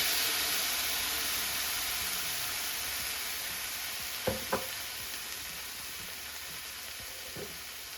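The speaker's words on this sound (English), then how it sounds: "I know I shouldn't be using a fork on my non-stick pan" Chili with diced tomatoes and tomato sauce sizzling and simmering in a non-stick pan, a steady close hiss throughout, broken by a couple of quick fork scrapes and a softer tap near the end.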